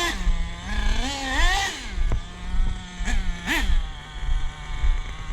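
An Ofna LX2 nitro RC car engine running lean screams up and down through repeated high-RPM revs, the whine rising and falling in pitch several times, close and loud, with sharp brief blips between.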